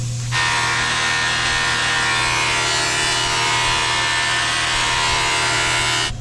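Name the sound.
grinder on a WWII anti-tank shell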